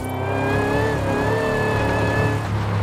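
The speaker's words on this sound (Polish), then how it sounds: "ten kompresor? Wydaje mi się, że go trochę za mocno słychać nawet w kokpicie" In the Forza Horizon 5 video game, a Lexus LC 500 engine drones steadily under load with a rising whine from its compressor, heard loud and close from the cockpit for a few seconds.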